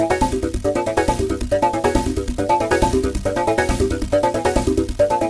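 Resonant, noisy techno synth sound driven into clipping, a dense distorted pulsing pattern with steady rapid rhythm, loud and alone.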